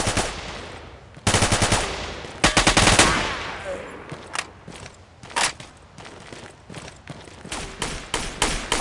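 Enemy gunfire in Marine Sharpshooter 3: loud bursts of automatic fire, then scattered sharp shots and clattering at varying distances.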